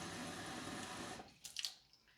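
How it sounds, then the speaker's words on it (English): A kitchen sink tap runs steadily into a cup for about a second, then cuts off, leaving a few faint drips and clinks. "I'm going to go to the sink here, get my cup of water in the same one."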